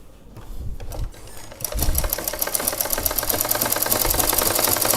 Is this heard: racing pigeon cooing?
no